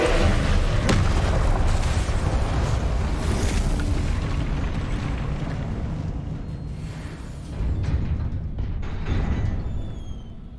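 Confringo fire spell blasts in Hogwarts Legacy, a dense roar of booming explosions rolling continuously for several seconds, loud and close, with a fresh burst swelling near the end.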